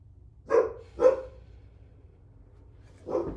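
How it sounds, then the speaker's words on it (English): A dog barks three times alone, two quick sharp barks followed after a pause by a third, moderately loud against a quiet background. "when my dog isn't barking and stressing me out"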